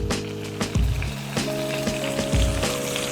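Butter melting and sizzling in a hot pan beside a nearly cooked steak, a steady frying hiss with louder spits and crackles as it hits the fat, close and alone.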